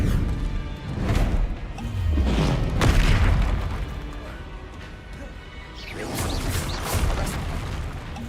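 Heavy booming spell impacts from the Hogwarts Legacy video game, a series of loud thuds and crashes in quick succession amid combat, with a couple of bursts standing out.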